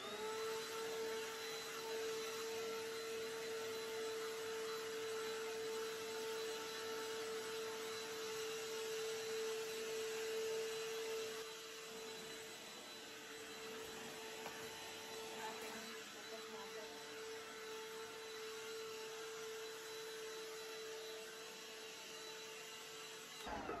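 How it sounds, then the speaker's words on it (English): A small vacuum cleaner runs continuously while cleaning a rabbit room, a steady close motor whine and airflow hiss that dips slightly partway through. "I have a vacuum cleaner, a small one"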